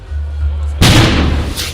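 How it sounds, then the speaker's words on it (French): A sudden loud explosion bursts over a low rumbling background, leaving a broad roaring decay with a second faint surge near the end. "Une explosion."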